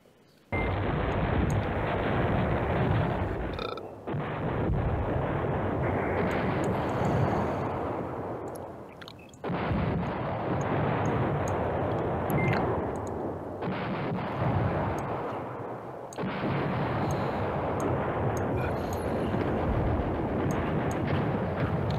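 Sustained bombing explosions from the wargame Command Ops 2, Allied side at Manhay Crossroads: four long, loud rumbling barrages separated by brief gaps, with no speech.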